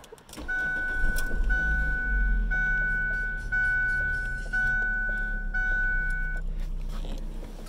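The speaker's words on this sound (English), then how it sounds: "so it starts up decent. It's a little laggy on the startup." Car with a Ford Zetec engine starting up: a chime tone repeats over the cranking, then the engine settles into a steady low idle, close and fairly loud.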